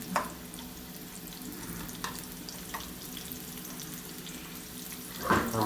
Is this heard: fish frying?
yes